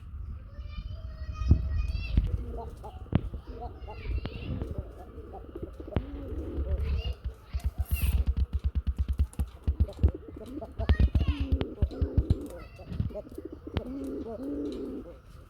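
Golla pigeons coo over and over in deep, throaty, rhythmic calls, with chirps and flutters mixed in and faint human voices in the background.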